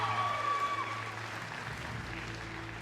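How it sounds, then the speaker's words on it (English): Applause from an arena audience at a pet dog award presentation at the Crufts dog show, a steady broad wash of clapping that holds evenly throughout, with faint tonal sounds over it early on. "Let's give her a round of applause"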